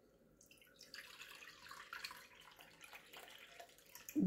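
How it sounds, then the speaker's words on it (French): Cold water poured from a bowl into a cooking pot, a soft trickling splash at low level that builds slightly before a louder clunk at the end. "Ensuite, je viens rajouter l'eau. 2 mesures d'eau froide, bien sûr."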